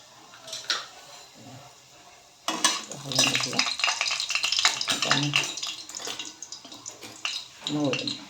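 Oil heats and sizzles in a pan for a Marathi dill-leaf curry, a bright crackling hiss that bursts in loudly partway through after a quiet start, with stirring scrapes and a voice speaking over it.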